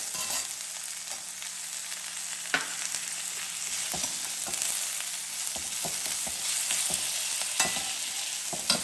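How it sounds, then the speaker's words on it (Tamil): Steady crackling sizzle of ridge gourd frying in plenty of hot oil, with occasional sharper pops and clicks of stirring, no voices. "அதிக எண்ணெயில் போட்டு வதக்கிடலாம்."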